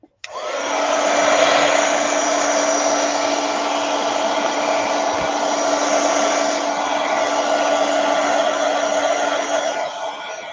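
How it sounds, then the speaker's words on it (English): A heat gun blows steadily on a not-quite-dry journal page, a loud continuous whooshing roar with a faint electrical hum that starts abruptly and runs unbroken for about ten seconds. "let's hit it with the heat gun just a little"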